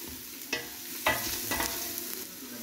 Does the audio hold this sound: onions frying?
yes